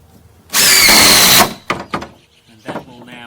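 A power drill drives a screw into a warped decking board in one loud, close burst of about a second, followed by a few knocks and thumps with brief talking.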